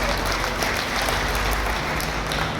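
A large crowd at a state association gathering applauds, dense steady clapping that fills the whole moment, loud and close, with no voices over it.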